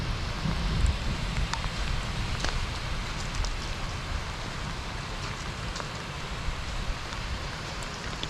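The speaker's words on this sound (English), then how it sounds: "One nice thing with the rain is everything gets very saturated." Rain falls steadily in Yankee Boy Basin, a continuous soft hiss of drops on surfaces with faint wind noise, moderately quiet and unbroken throughout.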